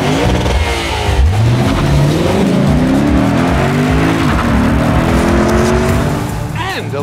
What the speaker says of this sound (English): shoehorning in one of the world's few remaining naturally aspirated V8s into its compact Lexus sedan